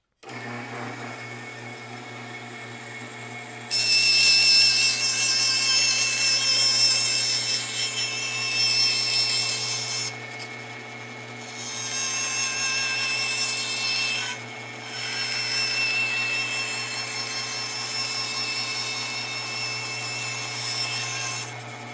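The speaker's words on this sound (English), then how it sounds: "over to the bandsaw" A bandsaw slices through wood for archtop guitar top bracing, its motor humming steadily underneath while the blade's cutting rasp rises loud and continuous, easing off briefly around two short breaks before resuming at a lower level.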